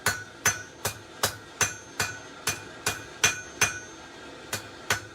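A hammer strikes a forge-welded steel piece in an even rhythm, about a dozen sharp ringing blows roughly half a second apart, close and distinct with no talking.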